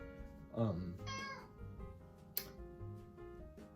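A cat meows in a video game: a few short, clear meows near the start, with soft game background sounds and tones continuing afterward.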